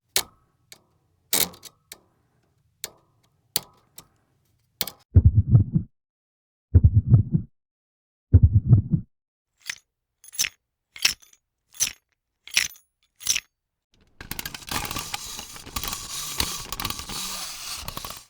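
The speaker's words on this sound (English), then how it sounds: "The animatronics actually make a noise when you are very close to death." Warning noises from the animatronics in the video game FNaF 6: a string of sharp clicks and ticks, a few low rumbling mechanical bursts, more spaced clicks, then a sustained gritty static-like noise at the end, no speech.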